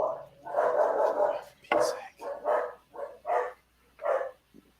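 Several dogs barking in repeated bursts, fairly close and loud, mixed with people talking nearby.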